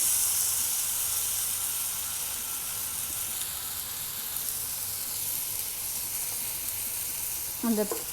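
Pineapple slices roasting on a hot tawa give a continuous, even hiss of sizzling juice, close and steady, with a brief clatter near the end as a piece is moved.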